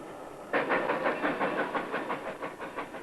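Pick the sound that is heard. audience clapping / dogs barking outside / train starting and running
train starting and running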